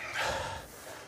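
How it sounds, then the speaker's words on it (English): Two superheavyweight arm wrestlers breathe heavily after a match, with one sharp, loud gasping exhale up close that tapers into softer panting breaths. "Both men breathing super heavy."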